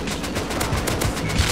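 An AK rifle in Rust fires a rapid burst of automatic rounds, a loud, tightly spaced string of sharp cracks lasting under two seconds.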